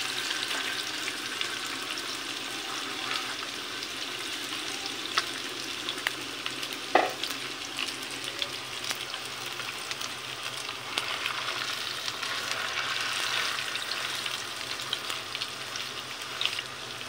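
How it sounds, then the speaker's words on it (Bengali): Fish frying in oil in a pan outdoors in the sun, a continuous soft crackling sizzle running throughout at a steady moderate level, with one brief clink partway through. "এই যে দেখেন কি সুন্দর করে মাছটা এখন তেলে ছেড়ে দিব।"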